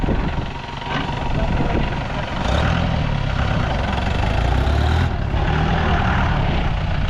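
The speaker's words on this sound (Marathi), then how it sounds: "गाडी चालवत आहे" A vehicle engine runs steadily and loudly while being driven on a rural hill outing, a dense continuous rumble with slight rises in revs and voices talking over it.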